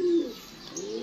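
Pigeons cooing in a breeding loft: a low, throaty coo opens the clip and a softer one follows near the end, over a steady hiss of room noise.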